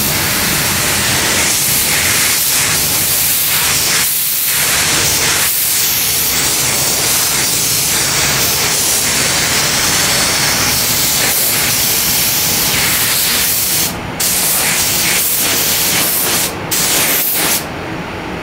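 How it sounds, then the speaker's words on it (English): A spray gun applies MC161 Omni clear coat to a 2021 Civic Type R during a rebuild paint job, a loud continuous hiss with brief pauses and trigger breaks near the end. "Moving on to clear. We are gonna be spraying what I always spray, MC161 Omni."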